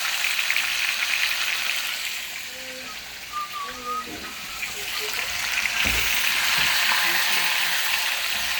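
Chicken pan-frying in a skillet gives a steady, dense sizzle with crackling throughout, and a faint voice briefly rises above it.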